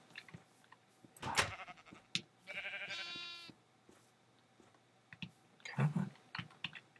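A Minecraft sheep gives a single clear, wavering bleat in the middle, surrounded by scattered computer keyboard clicks and taps.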